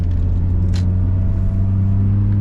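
A 2001 Mazda MX-5 Miata's 1.8-liter four-cylinder runs with a steady, deep droning hum and a constant low rumble, heard loudly from inside the car with no talking.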